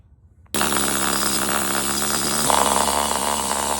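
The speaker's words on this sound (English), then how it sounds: "So I'm needle scaling this thing" A pneumatic needle scaler strips layers of red paint from an antique drop hammer, starting abruptly and then rattling loudly and steadily at close range with a dense buzzing clatter.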